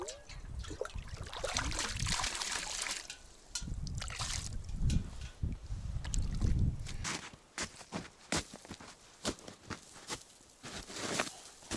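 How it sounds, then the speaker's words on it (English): Water trickles and splashes in uneven bursts as it is collected from a snowy river, close and quiet, with sloshing and dribbling sounds coming and going. "I need to collect water from the river for cooking food and tea."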